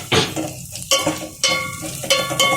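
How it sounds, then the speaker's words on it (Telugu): Masala with tomatoes for prawn biryani being stirred and fried in a pan, a spoon scraping through it in several bursts over a steady close sizzle. "కొంచెం కలుపుతూ ఉండాలి, లేదంటే అడగంటుకుంటుంది."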